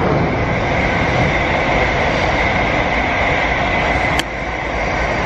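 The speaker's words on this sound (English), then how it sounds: "Jet, if we wait here for a train, maybe, just maybe, when you wave, they'll honk their horn." A train rumbles past at close range, a loud, continuous rolling roar with a brief high sharp noise near the end.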